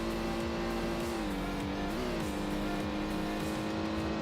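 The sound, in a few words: Lamborghini Countach engine in video game Need for Speed III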